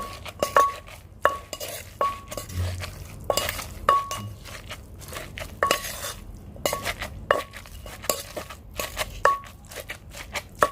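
Naem, a fermented pork mixture, is worked by hand in a bowl, giving quiet repeated squelching and scraping with light clinks against the bowl in an uneven rhythm, close and fairly soft.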